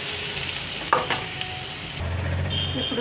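Hot cooking oil sizzles steadily in a pan, ready for chopped onions and green chillies for a raw brinjal curry, with a brief clatter of stirring partway through and a single word spoken over the frying.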